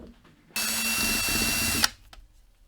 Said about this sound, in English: So I just put this socket on the end of my drill and placed it on there.